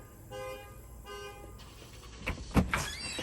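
A car horn honks twice in quick short blasts at a distance, followed by louder clattering and thumping nearby.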